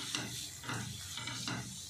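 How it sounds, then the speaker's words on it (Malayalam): Onion, garlic and ginger stirred in a hot pan with the heat switched off for paneer butter masala, giving a soft scraping and rustling that comes in three slow, steady strokes, close and fairly quiet with a faint sizzle beneath. "തീ ഓഫ് ചെയ്തു ഇട്ട് ഇളക്കി കൊടുക്കുന്നു"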